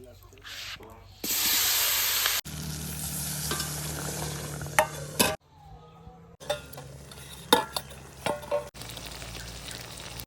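Fish dropped into a hot pan of mustard oil with dried chillies, giving a loud bursting sizzle that settles into crackling, spitting frying with scattered pops and a few abrupt breaks.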